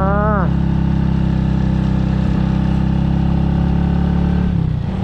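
A motorcycle engine drones steadily while climbing an asphalt mountain road toward Rinjani via Sembalun in North Lombok, a loud close hum with a brief rev at the start, and someone talks over it.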